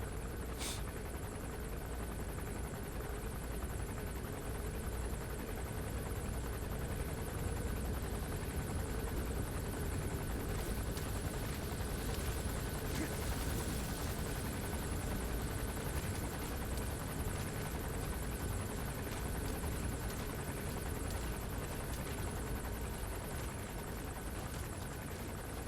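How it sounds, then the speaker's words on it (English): A helicopter in Metal Gear Solid V flies nearby, a continuous low rotor drone and engine hum holding steady and fairly faint for the whole stretch, with no voices over it. "Recruit the helicopter."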